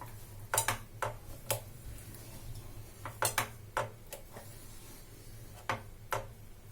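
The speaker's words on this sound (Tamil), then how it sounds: "நம்ம ஒரு கத்தி வச்சு இதை கட் பண்ணிக்கலாம்." A knife cutting cooked spinach mock liver into small pieces on a board, giving sharp, clicking taps in small clusters, close and clear over a low steady hum.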